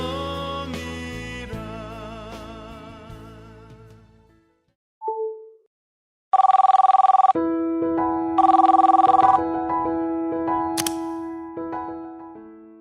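Telephone ringing with a bell-like ringtone, repeated bursts of steady electronic tones broken by a short pause, loud and close, mixed with musical sounds early on, no talk.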